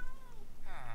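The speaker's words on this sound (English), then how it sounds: "He's got cats wandering around" A Minecraft cat meows in the game world, one drawn-out whiny call near the start and a second rising meow toward the end, fairly close and clear.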